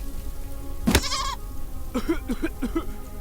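A goat in the video game Deponia Doomsday bleats once loudly and wavering, then gives a few shorter, quieter bleats after a pause, standing alone over faint background hum.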